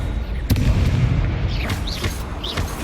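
A sudden booming fire-spell explosion in the Hogwarts Legacy Merlin's Trial Crossed Wands duel, starting sharply and then rumbling on under dense game noise with swooshing effects.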